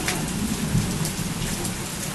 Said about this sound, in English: Let's hear the thunder.